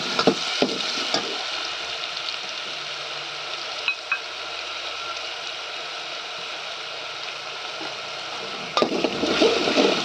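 Crushed ingredients dropped into hot oil, a steady bright sizzle and crackle of frying that carries evenly through, with a few clinks of a utensil and a louder burst of spattering near the end.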